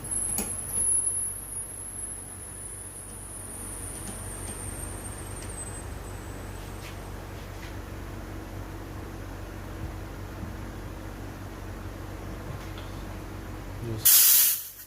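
Compressed air from a scuba tank rushes into an Artemis P15 / Diana Skyhawk PCP air rifle as a steady, loud hiss that holds for about fourteen seconds, then ends with a brief sharper burst.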